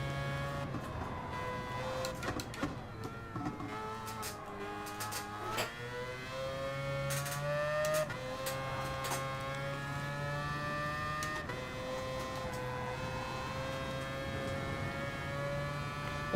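Racing car engine running steadily through a gentle lap of Bathurst in Gran Turismo, a continuous harmonic drone with gear shifts and pitch slides, constant in level with no talk.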